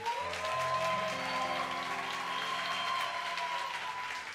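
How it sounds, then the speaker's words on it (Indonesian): Steady applause from a large church congregation, dense and continuous throughout, with a sustained musical tone ringing underneath. "bolehkah kita kasih sekali lagi tepuk tangan"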